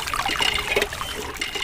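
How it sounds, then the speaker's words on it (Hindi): Water pumped from a miniature tubewell hand pump in a DIY farm diorama trickles and splashes into a small bucket and pond, a brief, close, bubbling flow with no voices. "देखो, ट्यूबवेल की पानी से ये बाल्टी और ये तालाब दोनों भरने लगा।"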